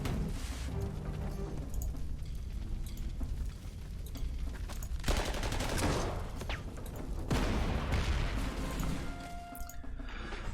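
Artillery fire in the Panzer Corps wargame, a muffled rumbling barrage with two surging bursts of explosions over a steady low battle noise, no talk.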